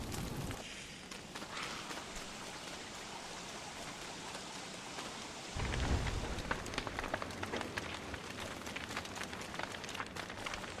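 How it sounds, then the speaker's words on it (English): Steady rain hisses in the Don't Starve video game, a dense continuous patter that thickens partway through, with no talking over it. "So I think this uh, this rain is the root of all evil."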